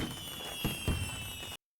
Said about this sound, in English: Is that fireworks Fireworks. or gunshots?